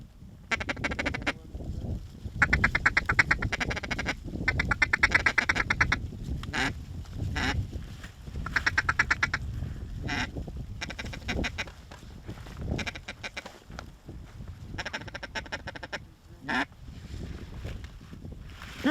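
Late-season mallard drakes quack on a duck hunt, loud raspy calls coming in bursts and overlapping, some near and some farther off, with short gaps between them.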